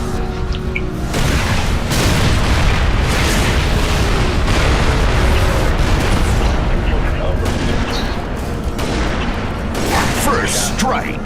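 Artillery strike explosions in a military video game rumble as a dense, continuous roar of booms and blasts, loud throughout, with voices mixed in.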